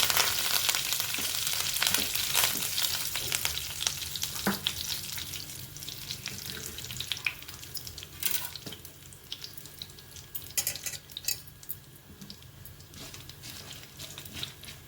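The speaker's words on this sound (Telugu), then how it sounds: "తాలింపు వేగిపోయిందండి." Two dried red chillies and curry leaves fry in hot oil as a tempering for a tamarind-leaf and drumstick curry, giving a loud, dense sizzle that slowly settles, with a few sharp pops and no talking.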